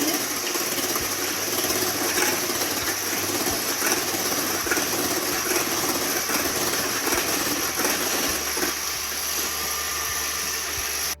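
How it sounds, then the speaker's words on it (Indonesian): Electric mixer beating egg whites with sugar at low speed for a Japanese cheesecake, a steady close whirring drone with a faint rattling texture that runs unbroken and fairly loud throughout, with no talking. "kita mixer dengan kecepatan rendah dulu"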